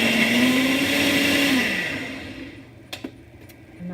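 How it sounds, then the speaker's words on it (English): A Ninja blender whirs loudly while blending fresh vegetable and fruit juice. The motor drone holds steady, then winds down and cuts off partway through, leaving quieter knocks and rattles from the jar. "then just throw it right into that blender"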